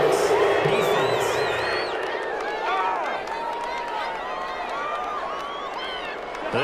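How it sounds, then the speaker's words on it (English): Home crowd at a Titans NFL football game roars and cheers a pass interference call, a broad steady wash of noise from the stands with whoops rising through it, under a commentator's talk. "This home crowd, they're happy with that call."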